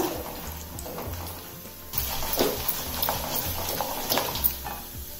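Chana dal and urad dal fry with mustard seeds in oil over a medium flame, a soft close sizzle with light crackles and stirring scrapes that grow a little busier partway through.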